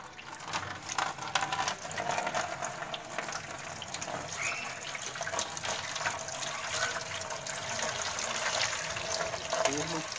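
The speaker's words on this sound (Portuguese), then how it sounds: "você pegue uma vasilha de água e vire a água na sua forma." Water poured from a container into a plaster mold to check whether it sits level, a steady broadband wash of running, splashing liquid that continues evenly throughout.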